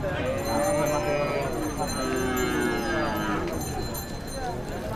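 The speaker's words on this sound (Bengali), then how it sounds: "এদিকটাতে আরো বড় বড় গরু আছে" Cattle moo at the Deohata cattle market in Mirzapur, Tangail. Several long, nearby lowing calls overlap against crowd murmur from the busy livestock market.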